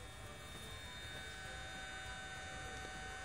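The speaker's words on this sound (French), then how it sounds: "Le son que vous entendez, c'est le son réel de la pompe." A faint, steady electric whine and hum of a small battery-powered Gardena garden water pump running at full power, even and unchanging throughout.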